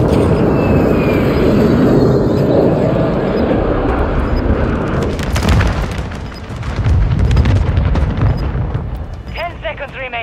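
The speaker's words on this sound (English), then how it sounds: "This is Vulture 6-1, solid copy. Inbound for bombing run." Bombing run in Call of Duty: Modern Warfare 3, with loud, sustained rumbling explosions and booms rolling under radio-style voice chatter, a fresh burst of blasts swelling midway and fading out with scattered crackling.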